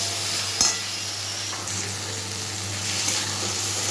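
Taro leaves with prawns frying in a kadai give a steady, even sizzle throughout, with a brief utensil clink near the start and a low background hum.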